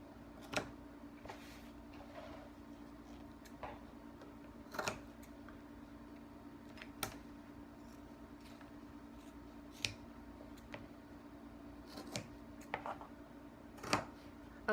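Scissors snip through fabric squares being cut for zipper cases, giving faint, sporadic crisp clicks and snips over a low steady background hum.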